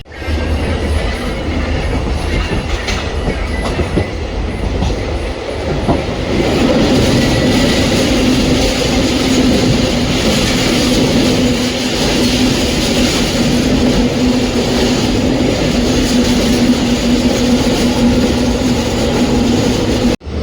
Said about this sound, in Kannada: ನಮ್ಮ ಮೈಸೂರು ತಾಳ್ಗುಪ್ಪ ಇಂಟರ್ಸಿಟಿ ಎಕ್ಸ್ಪ್ರೆಸ್ ಈಗ ಎಂಟ್ರಾಗಿದೆ ಈಗ ಭದ್ರಾವತಿಗೆ